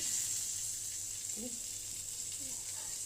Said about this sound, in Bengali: এখন বাটারটা দিয়ে দেব